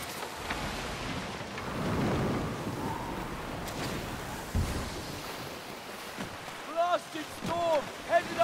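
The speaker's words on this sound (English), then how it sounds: "Blasted storm headed our way!" A stormy sea in Skull and Bones churns with rain and low rolling thunder under a ship's creaks, while voices shout over the weather toward the end.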